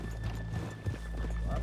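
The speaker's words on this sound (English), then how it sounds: "let's leave the horses here off the main drag" Horses in the Red Dead Redemption 2 video game walking with soft clip-clopping hooves and a neigh, set over a low steady hum, with voices faintly in the background.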